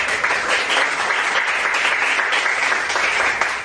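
Steady applause from a group fills the whole stretch, a dense wash of clapping with no talking over it.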